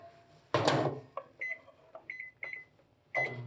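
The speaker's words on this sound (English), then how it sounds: "We could put this in the microwave for 7 minutes." A microwave oven heard close up with a steady low hum beneath a series of short, sharp clicks and beeps spread across the moment, plus brief louder thumps as the door or panel is handled.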